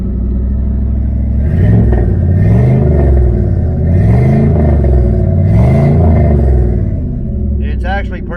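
A 1976 El Camino's engine idles and revs with a loud, deep exhaust rumble, swelling in several throttle blips before settling, the throbbing tone steady and close throughout.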